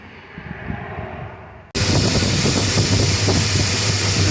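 A carbureted engine fitted with a rebuilt Holley 8450 two-barrel carburetor, running very lean, suddenly catches after a quiet stretch and keeps running with a loud, steady, rough roar close to the listener.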